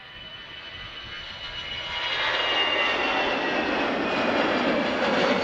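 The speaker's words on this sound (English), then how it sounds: "we have the KLM 777-300 now lining up" KLM Boeing 777-300 jet lining up on runway 36L at Schiphol Airport, a steady jet engine roar that swells louder partway through and then holds at a broad, even rush with no talk.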